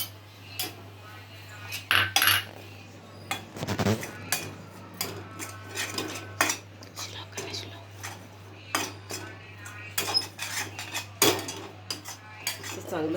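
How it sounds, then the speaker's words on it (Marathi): A metal spoon scrapes and clinks in a pan while gram flour, salt and dry spices are roasted for bhindi fry, irregular close knocks and scrapes over a steady low hum. "चण्याचं पीठ भाजत आहे."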